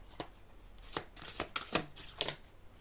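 Tarot cards are handled and laid down at close range, producing a quiet series of soft flicks, slides and light slaps in an irregular rhythm.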